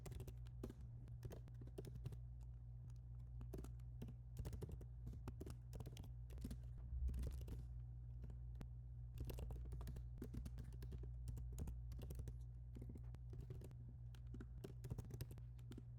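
Fast, steady typing on a computer keyboard as code is entered, with rapid key clicks close by over a low, constant hum and no speech.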